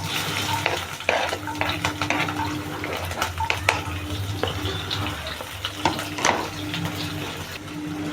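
Chopped green chillies fry in hot oil with cumin in a pan, a steady sizzle with repeated scraping and stirring clatter close by.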